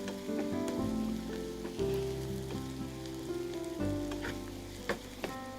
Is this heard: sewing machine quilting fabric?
no